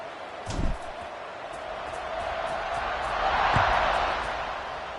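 A home crowd at a football game roars in the background, a broad steady wash that swells toward the end, with a couple of dull thumps near the start.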